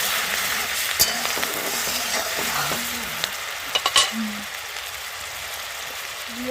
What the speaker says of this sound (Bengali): ওই তেলে দিয়ে দেবো পেঁয়াজ বাটা